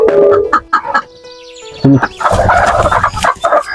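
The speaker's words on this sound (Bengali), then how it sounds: "মুরগিগুলি বসে আছে দেখছি কতগুলি ডিম পারছে" Free-range desi hens cluck and call close by, a series of irregular squawks and clucks with short pauses between them.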